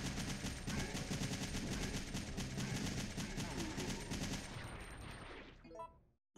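Sustained rapid gunfire in the survival-horror video game Resident Evil 3 Nemesis, dense and loud for about five seconds before cutting off abruptly, with a faint trailing tone at the end.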